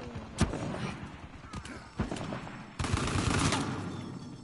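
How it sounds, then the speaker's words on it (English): Scattered gunfire crackles through an Uncharted 4 multiplayer match. Irregular sharp shots and short bursts sit at moderate distance, and voices talk underneath. "See him shooting?"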